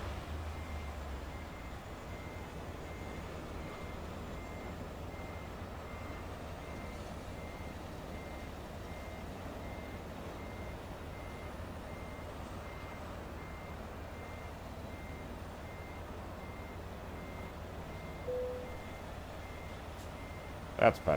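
Steady electronic reversing beeps from a truck in American Truck Simulator, a continuous repeating alarm over low engine drone for the whole stretch, with a brief spoken remark near the end.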